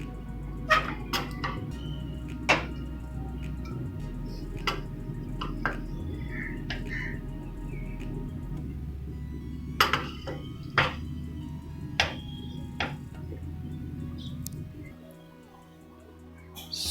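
Cooked dal khichdi being served onto a plate in a home kitchen, with scattered soft spoon taps and clinks against the dish over a low steady background hum.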